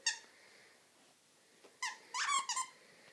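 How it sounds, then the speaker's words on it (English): A dog's squeaky toy squeaks in a few sharp bursts, one early squeak then a cluster of quick squeaks near the end, close and clear in a quiet indoor room. "You got a squeaky toy?"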